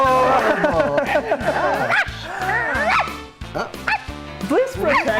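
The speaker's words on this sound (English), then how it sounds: "Bark sound." A dog barks and yips several times in short bursts from a cartoon animal, with talk and a steady musical backing underneath.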